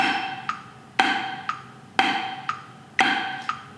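A drum sounds crisp primary strokes right on the beat, one loud hit each second with a softer tap between, steady and close with no talking.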